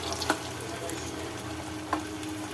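Idly pieces fry in oil in a pan, giving a steady soft sizzle with a couple of sharp clinks from turning them over.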